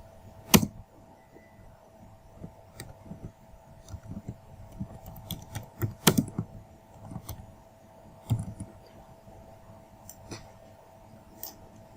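Computer keyboard being typed on while a name is entered for a visiting card, sparse irregular clicks and taps with a few louder keystrokes, close and fairly quiet over a faint steady hum.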